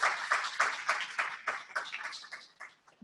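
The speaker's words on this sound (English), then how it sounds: "a round of applause for our panelists" A conference audience applauds its panelists after a discussion on sustainable public transportation design, with rhythmic clapping that is brisk at first and then thins out and fades over a few seconds, with no voices.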